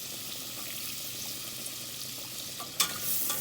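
Ginger sautéing in Star margarine in a pan for arroz caldo, a steady soft sizzle with a brief clatter of a utensil near the end.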